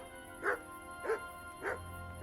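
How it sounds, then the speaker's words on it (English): Dog barking in Kingdom Come: Deliverance, three evenly spaced, moderately loud woofs over a quiet ambient background. "Why are you barking like that?"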